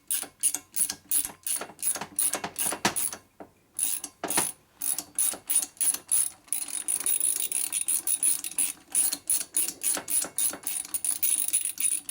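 A socket ratchet wrench turns bolts on a 1983 FLTC 80ci shovelhead motorcycle engine during a rebuild, rapid clicking strokes repeating in bursts with brief pauses, close up and fairly loud.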